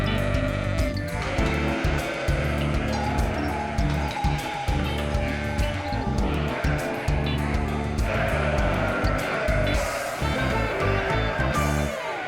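A flock of Merino sheep bleats continuously on a hot day, many overlapping calls near and far, with some traffic-like rumble underneath and no talking.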